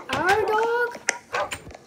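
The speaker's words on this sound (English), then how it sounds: "There's a dog outside!" Dog bark sounds inside a Minecraft survival game on a farm, a few short yips and whimpering tones, with a person talking over them near the start.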